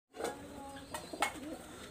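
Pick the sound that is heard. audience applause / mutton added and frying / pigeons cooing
pigeons cooing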